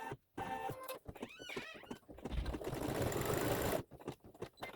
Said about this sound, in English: Now we're going to stitch the gleam in the eye.